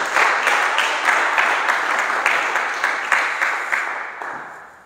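A church congregation applauds loudly during a Sunday service, a thick wash of clapping with rhythmic pulses that gradually fades toward the end.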